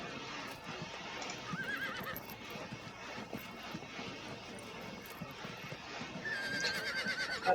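Horse neighing and whinnying with clip-clop hooves in the Field of Glory 2 strategy game, a steady stream of game sound with a whinny rising near the end, fairly faint.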